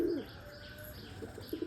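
Pet pigeons coo softly in brief, low murmurs, a faint burst at the start and a few short coos near the end, with no talking.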